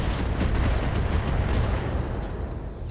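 A mech ammo explosion in the video game RogueTech, a loud, dense, rumbling blast that roars continuously for a few seconds before easing off slightly.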